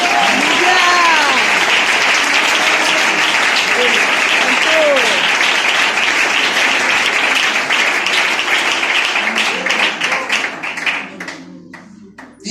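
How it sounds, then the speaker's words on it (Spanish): A church congregation applauds in dense, sustained clapping that runs loud for about ten seconds, then thins out and fades near the end, with raised voices and cheers mixed in throughout. "Le damos gracias al Señor con este aplauso porque nos ama y nos quiere"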